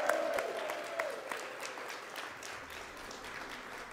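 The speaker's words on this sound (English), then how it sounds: "Can we give Trudy a round of applause so she can hear us wherever she is?" A crowd at an election-night watch party applauds for the candidate Trudy Busch Valentine, a sustained wash of clapping that swells early and then settles into a steadier, slightly softer roar.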